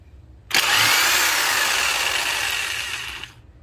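An impact wrench spins a wheel bolt off during a tire rotation, one loud, close, continuous whirring burst of about three seconds that starts abruptly and tapers off, with no voices.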